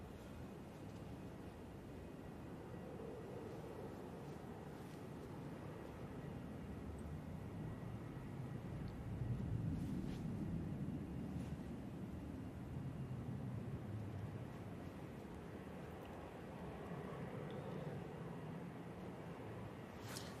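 Virgin airliner engines spool up and ease off during storm winds at Manchester Airport, a faint, distant rumble surging gently under broad wind noise with no voices.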